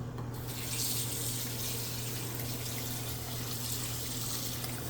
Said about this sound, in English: Get rinse these tomatoes off.